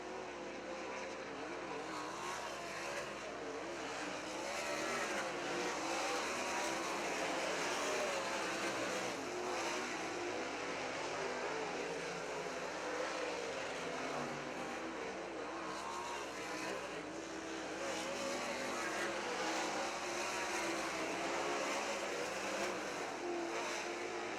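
Race cars from a Michigan GLSS heat at Crystal Motor Speedway roar continuously around the oval, a steady dense engine drone with rising and falling passes and no voices over it.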